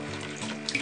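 An aquarium sponge filter is washed under running tap water, giving a brief, steady splashing rush.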